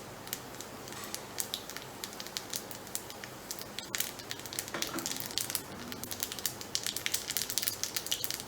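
Urad dal frying in hot oil in a pan for a plantain stem curry gives a faint, steady sizzle with scattered light crackles and pops, close but quiet, with no talk.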